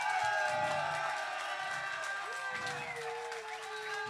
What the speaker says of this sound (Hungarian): egy hatalmas tapsot szeretnék neki kérni a kitartása miatt